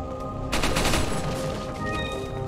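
Rapid gunfire in the video game Resident Evil 4 comes as a loud, dense burst of shots over a steady game-soundtrack drone, with a faint tonal ring trailing after.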